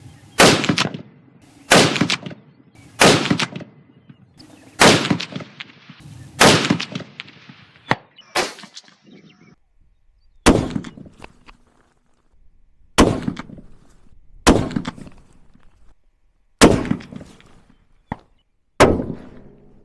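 Rifle shots at a shooting range from a Seekins Precision Havak PH2 and a Tikka T3x, about a dozen loud, sharp reports spaced a second or more apart, each with a brief echoing tail.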